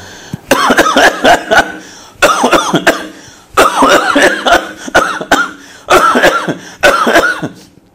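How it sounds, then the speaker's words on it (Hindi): Five loud bursts of forceful coughing, each a rapid cluster of harsh hacks separated by short pauses, close and dominant. "आप खांसी कीजिए ज़ोर की फौरी तौर पर खांसी कीजिए जैसे मैं कर रहा हूं"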